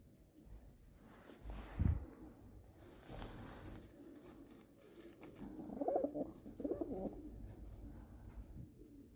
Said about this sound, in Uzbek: Valerda yurgan kaptarlar uchirilmagan.